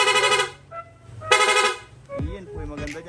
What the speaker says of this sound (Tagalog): Lulong press lang po natin yung horn switch, sabay, magsusunod-sunod na po yung tunog.